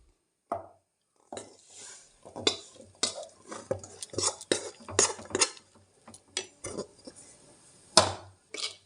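A metal spoon clatters and scrapes against a cooking pot as boiled raw jackfruit is stirred together with sautéed tomatoes, making irregular knocks and scrapes close by in a quiet kitchen.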